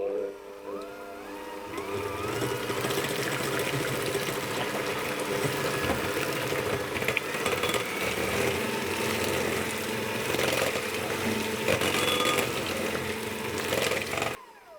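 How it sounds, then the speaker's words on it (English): Eggs, wet ingredients and vanilla extract are whisked together for a spiced courgette loaf, a continuous close, buzzing whir with a rough churning texture that runs steadily and cuts off at the end. "So I whisk them until they're fully combined."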